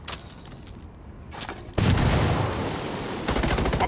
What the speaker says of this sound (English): Grenade, watch out!